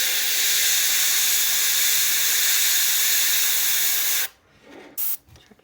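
Airbrush spraying black paint onto a crankbait lure, a close, steady hiss lasting several seconds before cutting off, followed by a short second burst.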